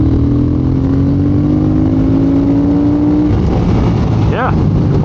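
A 2022 Triumph Speed Twin motorcycle accelerating hard through third gear, engine drone rising steadily in pitch for several seconds with heavy wind rush, then easing off near the end.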